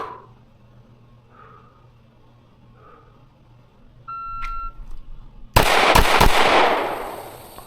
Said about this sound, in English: Draw and fire 3 shots to the body.